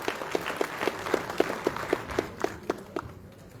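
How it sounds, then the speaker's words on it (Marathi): Audience applause at a Goa Marathi film festival, a thin, sparse round of separate claps in a fairly regular rhythm that stays moderate in level and fades toward the end. "जोरदार टाळ्या."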